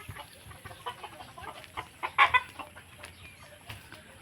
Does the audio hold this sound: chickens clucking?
yes